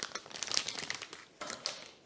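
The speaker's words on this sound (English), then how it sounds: "I'm just going to add the tip into the piping bag." Crinkly plastic rustling as an Ateco metal piping tip is pushed into a plastic piping bag for decorating a lemon white chocolate tart, a few close, soft crackling bursts with brief pauses.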